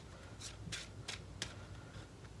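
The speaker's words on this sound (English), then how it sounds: "And let's shuffle my deck back up." A deck of game cards is shuffled during a tabletop board game session, giving several quick papery riffle bursts spaced apart over low background hum, close and fairly soft, with no talking.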